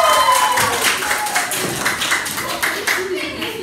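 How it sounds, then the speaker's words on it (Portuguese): A live studio audience claps for a viewer during a seventh-grade philosophy review show, a steady patter of hands lasting the whole stretch, with a voice talking over it. "Palmas para Maria Regina!"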